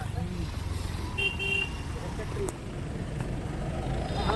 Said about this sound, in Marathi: गाड्या सर ट्रॅफिक लागले वाटतं माणगावला